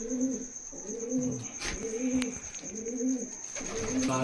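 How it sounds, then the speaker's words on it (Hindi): Malwai pigeon cooing in a steady, repeated rhythm of low rolling coos, close and clear, with one coo following another through the whole stretch and no talk over it. "तो देखो बहुत ही प्यारा कबूतर है"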